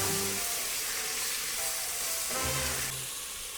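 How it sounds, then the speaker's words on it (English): Vegetables sizzle and hiss in a pot of bean and ham soup as they are stirred, a steady frying sound close by with faint scrapes and a soft tonal hum, no talking. "Give this a stir."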